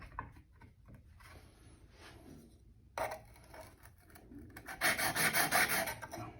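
Hand plane being lapped on 600 grit abrasive, steady quiet rubbing and rasping strokes, faint at first, then louder scraping bursts toward the end, with no talk.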